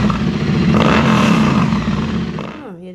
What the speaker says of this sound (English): These are Predator Pro pipes from British Customs.